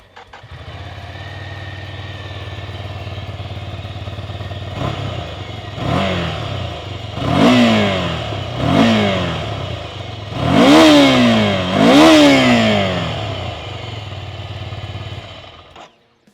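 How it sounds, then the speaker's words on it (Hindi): Ducati Scrambler motorcycle with a Termignoni end can, stock exhaust, idling steadily before a series of sharp throttle blips that rise and fall, followed by two bigger, longer revs, loud and close with no talk. "let's hear how this motorcycle"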